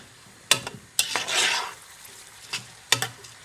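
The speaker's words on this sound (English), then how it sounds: "Give it a good stir." Prawn fried rice is stirred in a frying pan, with a few sharp scrapes and clatters of the utensil against the pan over a steady close sizzle that swells briefly in the middle.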